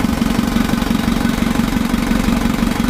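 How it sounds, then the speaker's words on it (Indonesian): Isuzu Traga diesel engine idling after assembly, a steady loud throbbing rumble with a fast even knock, close up and continuous with no voices. "untuk mesinnya sudah hidup, sambil kita pantau kebocorannya"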